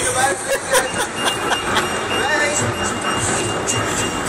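Steady rumbling and clattering of a moving train, with a constant broadband roar and faint voices in the background.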